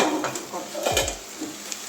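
Water spinach (kolmi) greens fry in a pan with a soft sizzle, broken by brief scraping strokes of a utensil stirring them, close and moderately loud.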